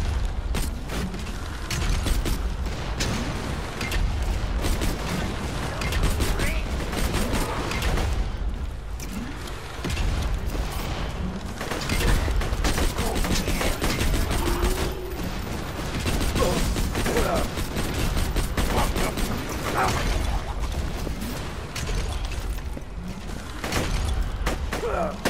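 Sustained loud barrage of gunfire and mechanical clatter in the Borderlands 2 video game, shots sprayed in rapid, overlapping bursts with game effects throughout.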